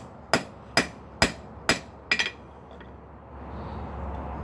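Hammer planishing hot steel being shaped into a horizontal hot cut tool made from a ball peen hammer: five sharp ringing blows at an even rhythm, close and loud, the last a quick double strike, then quiet hum.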